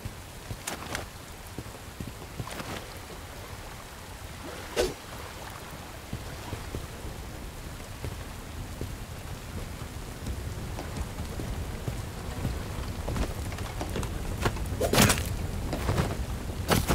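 Steady rain falling in the video game Bright Memory: Infinite, a continuous hiss of drops on surfaces with occasional sharper splashes and low rumbling, no voices.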